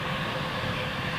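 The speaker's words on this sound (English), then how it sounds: "There's your first exotic aircraft of the day, folks. Thai's on the move." Thai Airways airliner taxiing at Zurich airport, a steady broad engine roar heard from a distance, even and unbroken throughout.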